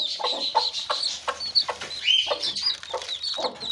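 Young hen chicks flocking to eat number 14 chicken feed, a busy run of close, repeated high cheeps and soft clucks in an irregular pattern with no talking.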